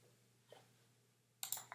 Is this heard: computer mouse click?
yes